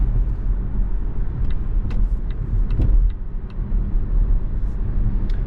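Volvo XC40 Recharge electric car on the road, a steady low rumble of tyres and road noise inside the cabin with faint clicks and ticks, no engine note, fairly loud and continuous.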